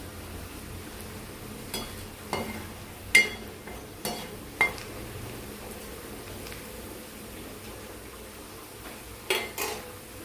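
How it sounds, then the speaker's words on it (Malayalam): Garlic and ginger frying in a pan for a quick tender mango pickle, with a soft low sizzle beneath several sharp metal clinks of a spoon striking the pan, scattered irregularly and close by. "വെളുത്തുള്ളി ഇഞ്ചി മൂത്ത് വരാൻ ഇത്തിരി സമയമെടുക്കും"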